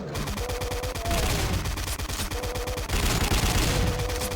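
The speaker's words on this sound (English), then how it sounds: "it gives you a little bit of cover from the chain gunners" Chaingunners firing in DOOM, a continuous rapid rattle of gunfire with dense repeated shots over a few seconds, loud and up front amid game noise, with no speech.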